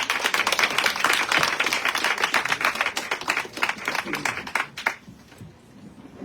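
Audience applause after a talk in a Spanish-language arts session, dense clapping at a steady level for about five seconds before it thins out and fades.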